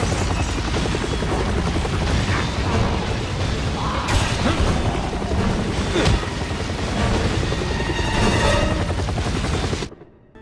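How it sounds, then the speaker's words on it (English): A jet flies in Resident Evil 6, heard as a dense, loud roar with mechanical clatter and occasional booms that runs continuously before cutting off abruptly near the end. "remember the part where you flew a jet into Chris's campaign in Resident Evil 6?"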